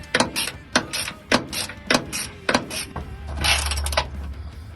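Ratchet wrench loosening long 3/4 bolts and nuts from the support bracket of an F100's C6 transmission mount, giving a series of sharp, close clicking bursts at a steady rhythm, with no talk.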